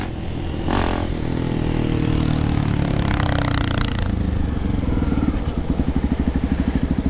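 Many motorcycles rev and rumble loudly up close during a crowded Christmas Day ride in Recife, engines roaring steadily and then sputtering in a fast rhythmic chug toward the end, with no voices.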